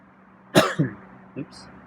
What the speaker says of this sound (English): Scared him with my cough.